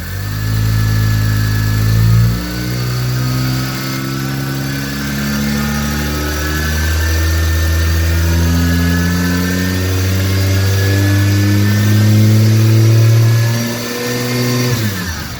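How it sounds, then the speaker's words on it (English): A Toyota 1JZ engine in a 1989 Cressida with an R154 gearbox, not yet fully warm, revs slowly and gradually from idle, its loud close exhaust note rising and falling in smooth sweeps before settling back. "So here's a little bit of just a slow, gradual rev."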